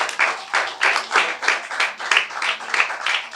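A church congregation claps in unison during a sermon, producing a fast, even run of crisp, close-sounding hand claps with no pauses.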